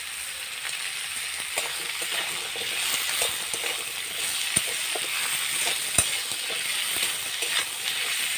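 Bata fish frying in a pan of hot oil, a steady dense sizzle running throughout with occasional sharp pops and light spatters, close and continuous with no voices.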